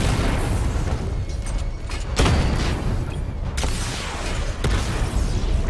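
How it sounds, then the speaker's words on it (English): Missile barrage explosions in Batman: Arkham Knight, where a charged barrage strikes several targets at once. Three sharp booming bursts land over a continuous roar, spaced about a second or more apart, loud and close. "Charge the missile barrage to level 2 to destroy up to 4 targets at once"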